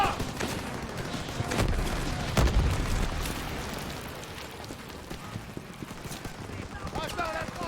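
Suppressive gunfire in the Call of Duty WWII video game during a Rhine river battle at Remagen: rapid rifle and machine-gun bursts with heavy booms, moderately loud, under shouted soldier commands and battle ambience.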